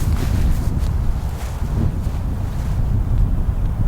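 Strong wind buffets an outdoor microphone, a loud, steady low rumble with gusty swells and no voices.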